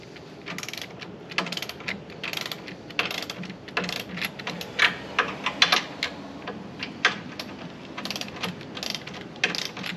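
Golf cart brake parts being tightened on a Club Car Precedent during a lift kit job: rapid ratchet clicks in quick irregular bursts, close and fairly quiet, with no talk.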